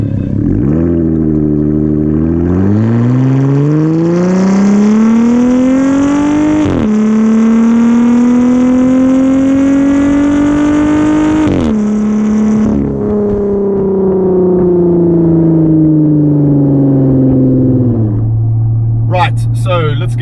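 A Jeep Gladiator with a custom aftermarket exhaust revs up and holds, a loud, close engine note rising, sustaining and dropping in long sweeps before settling back toward idle.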